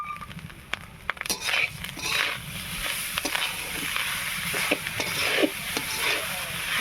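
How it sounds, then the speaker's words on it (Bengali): Sugar being stirred in a pan with roasted rice and grated coconut, giving a continuous close scraping and gentle sizzling with crackly ticks throughout, no talk. "অনবরত নাড়তে হবে।"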